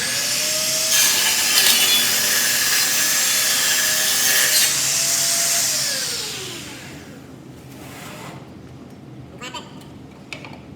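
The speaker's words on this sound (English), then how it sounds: "Clamp it in place, and then we're going to cut it just like we cut the D-ring." A power saw cuts through a clamped wooden panel for an end table, a loud, steady whine lasting several seconds that winds down as the blade slows, followed by quieter handling knocks.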